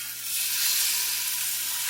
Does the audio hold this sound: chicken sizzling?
yes